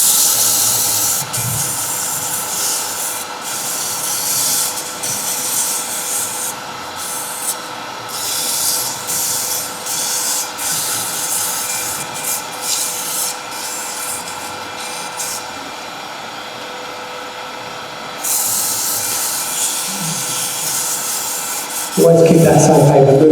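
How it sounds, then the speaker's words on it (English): Sandpaper of 240 grit rubbing steadily against a turned wooden piece spinning on a lathe, a continuous loud hissing abrasion that dips briefly near the middle and ends with a louder burst. "Always keep that sandpaper moving all the time."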